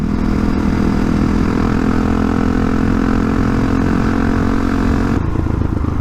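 A Honda CRF450RL motorcycle with a Rekluse clutch rides in sixth gear at low speed, its engine a loud, steady, close drone that softens slightly near the end.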